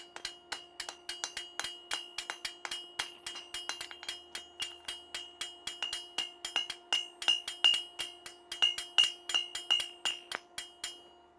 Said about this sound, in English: So real light, small hammer blows with a light hammer is gonna be what you want.